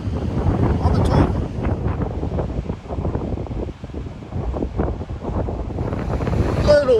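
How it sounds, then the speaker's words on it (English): Strong wind buffeting the microphone on the Lake Michigan shore in western Michigan, a continuous rough roar with surf mixed in, loud and close throughout. "Little windy out here today."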